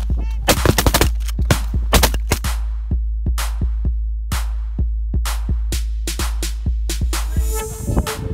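Repeated shotgun blasts during a waterfowl duck hunt, a rapid series of loud, sharp reports spaced unevenly over several seconds, with goose-like honking calls faintly between shots.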